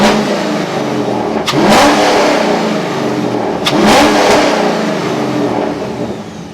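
A C5 Corvette with a cold air intake and straight-piped exhaust idles loud and close, then is revved twice in sharp blips that climb and fall back to a lumpy idle.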